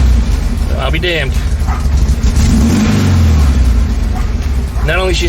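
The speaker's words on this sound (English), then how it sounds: "Not only she start up, but she's revving a whole lot faster than she used to be." A VW Type 3 engine with newly installed electronic ignition cranks, starts and revs loudly up and down close by, with a voice briefly heard over it.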